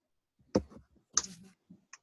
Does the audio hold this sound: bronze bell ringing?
no